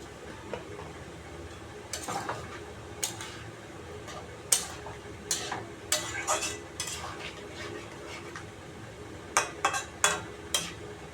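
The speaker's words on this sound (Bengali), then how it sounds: "ভাজা মশলা জিরে লঙ্কা একসাথে পেস্ট করেছি আমি ভেজে সেই মশলাটা দিয়ে দেবো" Fried cumin and chili spice paste going into a pan of radish, potato and bara dalna, with scattered scraping and clinking of a utensil against the pan over a low simmering sizzle.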